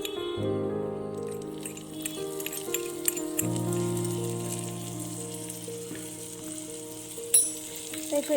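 Onions and spices frying in hot oil for mutton kari dosa, a steady close sizzle under a sustained musical tone, with a few clinks and stirring sounds near the end.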